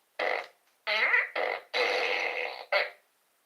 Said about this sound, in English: I usually bring out the fart gun.